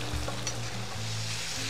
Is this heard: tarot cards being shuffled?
no